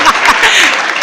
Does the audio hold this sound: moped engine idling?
no